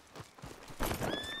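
Horse in the Red Dead Redemption 2 video game, with a short neigh and hoof clip-clop rising louder toward the end over a steady game soundscape.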